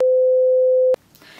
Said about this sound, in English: I'm putting my phone on silent, but someone else's in the house is going,